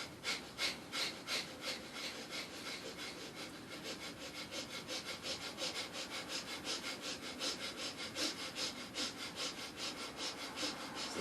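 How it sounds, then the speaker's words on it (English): Rapid, forceful nasal exhales of kapalbhati breathing pulse in a steady, quick rhythm, close and moderately loud, continuing as an unbroken series of sharp puffs. "We're on our second round of kapalbati now."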